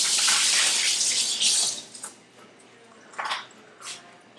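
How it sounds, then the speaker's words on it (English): Water runs from a kitchen tap as hands are washed, a loud hissing splash at first, then intermittent gushes and splatters as the flow is broken up, close by. "Let me wash my hands."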